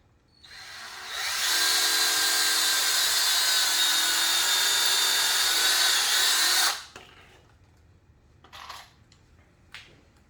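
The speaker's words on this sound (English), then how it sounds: "just drilling holes just helps usually keep the wood from splitting" A power drill whines steadily for about five seconds drilling pilot holes in wood, then stops, followed by a couple of faint clicks and light handling sounds.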